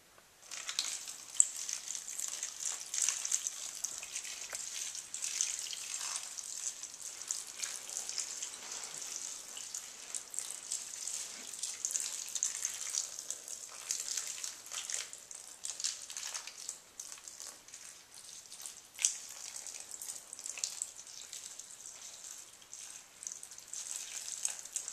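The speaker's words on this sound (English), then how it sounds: "So let's pour some warm water into it" Warm water is poured into a tray of seedling starter pellets, giving a soft, steady hiss and trickle that runs on evenly for about twenty-five seconds without talking.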